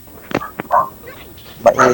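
A small dog gives a few quick yips and barks close by, mixed with people talking nearby.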